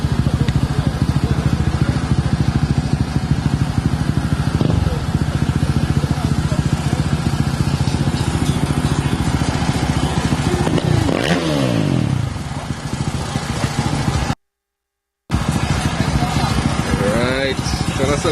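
A stock, stretched Kawasaki ZX14 drag bike runs in the pits at a wet drag strip, its engine a constant loud rumble with rattles and scrapes. People talk over it, and there is a brief silent gap near the end.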